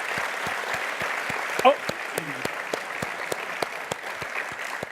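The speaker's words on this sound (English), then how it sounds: "We should clap." Audience applause at a talk, a steady wash of clapping filling the space throughout with a brief voice cutting in near the middle.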